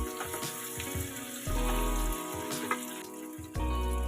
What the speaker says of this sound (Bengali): টমেটো এখানে দিয়ে দিচ্ছি ভালো করে মিক্স করে নিচ্ছি